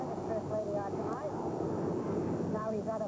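A helicopter flies overhead toward the JFK during the 1986 Liberty Weekend celebration in New York, its steady rotor and engine rumble continuous and fairly loud, with other voices faintly audible in the background.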